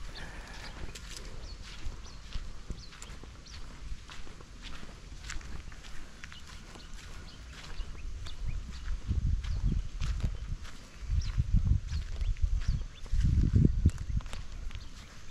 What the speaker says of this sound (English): Horses grazing in the morning.